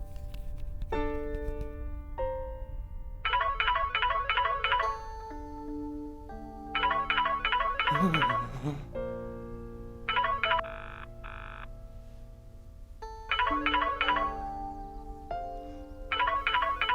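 A telephone rings with a repeating electronic melodic ringtone, bursts of fast trilling notes alternating with stepped tones, playing steadily and fairly clear for the whole stretch.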